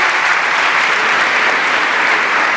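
Dense, steady applause from an audience fills a book presentation, a continuous loud wash of many clapping hands with no gaps.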